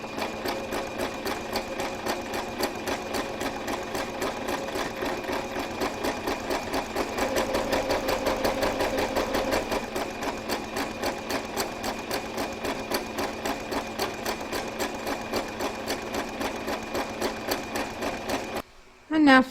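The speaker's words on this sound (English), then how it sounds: "And we're now going to stitch them in place." Sewing machine stitching the sashing and binding on a quilted table runner, a steady fast rattling hum that runs without a break for most of the stretch, swells slightly midway, then stops abruptly near the end.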